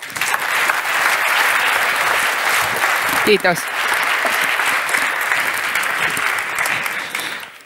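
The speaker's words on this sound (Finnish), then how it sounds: "annetaan isot aplodit" Large audience at a Finnish entrepreneurship conference breaks into sustained, loud applause that fills the hall, with a brief spoken word of thanks rising over the clapping before it fades at the end.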